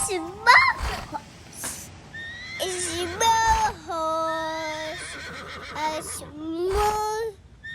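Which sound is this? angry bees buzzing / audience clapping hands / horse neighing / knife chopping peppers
horse neighing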